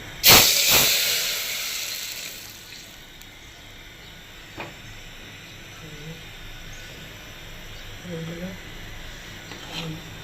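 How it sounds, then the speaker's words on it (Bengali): Lentils poured onto a hot cumin tempering give a sharp, loud burst of hiss that fades into a softer, lingering sizzle, while a voice talks quietly in the background. "জিরা বাগার হয়ে গেছে, ডালটা ঢেলে দিচ্ছি"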